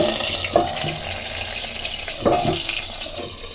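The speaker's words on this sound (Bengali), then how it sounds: "চাপা দিয়ে এটাকে আমি ভাজবো।" Stuffed aubergines fry covered in mustard oil on a griddle, making a soft continuous bubbling sizzle with two louder splashy bursts, close and without talk.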